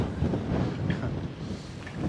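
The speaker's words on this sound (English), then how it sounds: "not only is it 19 degrees, it's super windy" Strong, cold wind buffets the microphone during a ride on a 2020 Harley-Davidson Road Glide Special 114 in freezing New York City weather, a steady loud rushing roar with no talk.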